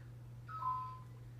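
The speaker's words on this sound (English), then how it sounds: "It'll beep." A home security entry sensor on a door or window gives one short, clear electronic beep over a steady low hum.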